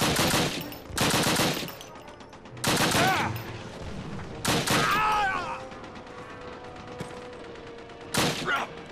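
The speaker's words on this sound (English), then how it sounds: "that machine gun's in a good spot" Bursts of machine gun fire from a Call of Duty battle, several loud rapid volleys separated by short gaps, with in-game shouts and chatter in between.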